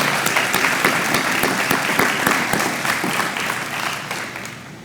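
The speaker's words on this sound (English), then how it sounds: "give him a round of applause to all these elected officials that are here with us today" Audience applause at an outdoor Blossom Trail ceremony in Fowler, honoring elected officials: a dense, steady clatter of many hands clapping at close range that carries on for several seconds, then thins out a little toward the end.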